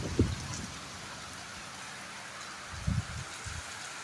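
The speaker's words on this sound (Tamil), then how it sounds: "செம்ம காற்று அடிக்குது நல்லா மழை பெய்யுது" Steady heavy rain with strong wind makes a constant broad hiss outdoors during a downpour, with a few brief low thumps or gusts near the start and again toward the end.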